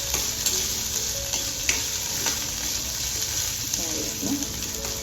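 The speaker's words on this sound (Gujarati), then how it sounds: "પછી આને ફ્રાય કરી દઈશું થોડું" Whole green chillies fry in oil with cumin seeds for thecha chutney, a steady low sizzle with occasional crackles and light stirring knocks, close and moderately quiet, with a faint voice murmuring in the background.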